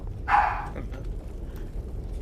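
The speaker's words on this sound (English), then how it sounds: "Why are the dogs barking so much?" Dog in the Fallout video game, one short close bark over a low steady rumbling ambience, then quiet background noise.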